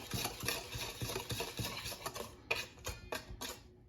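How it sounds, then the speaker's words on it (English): Whisk working through blueberry sour cream muffin batter in a bowl, a quick steady run of soft ticking strokes against the sides, close and fairly quiet with no voices. "Give it a good whisking and a stirring."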